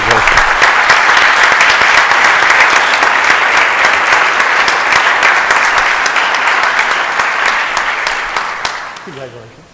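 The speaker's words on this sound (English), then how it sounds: "give them a big round of applause for this certification" A city council meeting audience gives a long, loud round of applause for a finance director and her team, the clapping dense and sustained before tapering off at the end as a voice begins.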